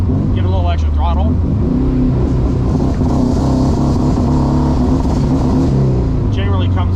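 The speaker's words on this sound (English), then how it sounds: "Give it a little extra throttle." Haltech-managed Porsche 914 engine revving under added throttle, a loud steady drone with harmonic layers that break up slightly, while a voice talks briefly at the start and end.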